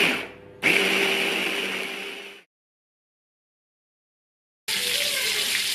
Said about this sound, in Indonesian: ke semua bahan ni kita akan kisar